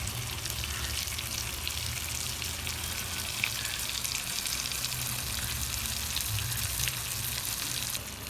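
Stuffed brinjals fry in a pan with a loud, even sizzle that holds close and unbroken throughout, with no one talking.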